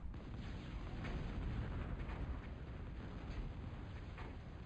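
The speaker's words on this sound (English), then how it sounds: "Twilight's getting shelled out, it looks like, from the Punisher there." Punisher artillery shelling in the real-time strategy game Total Annihilation: a dense, continuous rumble of booming shell impacts and blasts, steady and fairly loud throughout with no talk.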